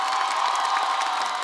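A television stand-up comedy show's studio audience claps and cheers for a comedy duo, a dense, continuous burst of applause with scattered whoops, short and bright.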